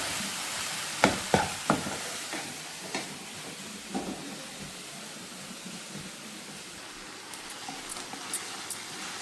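Ridge gourd curry cooks in a pan, a quiet continuous sizzling hiss with occasional faint clicks and taps of a spoon scattered through, close and low in level, no speech.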